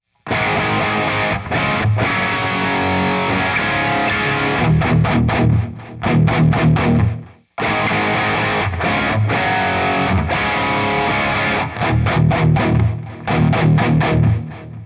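Heavily distorted electric guitar through a Marshall Plexi amp playing loud chords and riffs, thick and saturated, with a short break before the same passage repeats.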